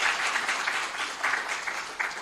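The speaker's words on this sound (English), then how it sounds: "Let's clap the media." An audience applauding the media at a Jamaican government records management ceremony, a steady wash of clapping from many hands, fairly close and loud, with no talk over it.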